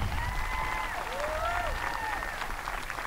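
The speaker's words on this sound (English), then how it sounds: "Can we give them one more round of applause?" A crowd applauds steadily throughout a high school graduation ceremony, with cheering voices and possible whistles rising over the continuous clapping.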